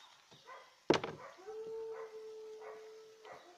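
A dog gives a sharp close bark followed by a long sustained howl that wavers slightly, with soft background noise and no talking.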